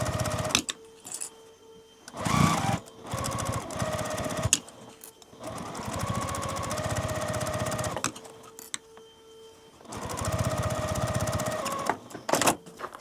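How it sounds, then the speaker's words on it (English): Sewing machine stitching fabric binding along the edge of a multi-zipper pouch, several runs of fast, even mechanical stitching, close by, broken by brief pauses between passes. "now we're going to take this to the machine, and I'm just going to sew right down this edge"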